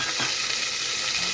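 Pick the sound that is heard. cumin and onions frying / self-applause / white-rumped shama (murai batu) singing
cumin and onions frying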